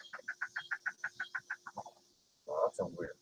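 An unfamiliar bird calling outdoors, sounding like a chicken, a fast run of about a dozen evenly spaced clucking notes that slows and fades, followed by a short louder burst of call or voice.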